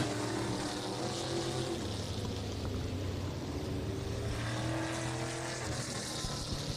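Vintage and late model race cars roar through a heat race at U S 30 Speedway, a dense, continuous engine drone with shifting pitches as cars run side by side, heard from a distance.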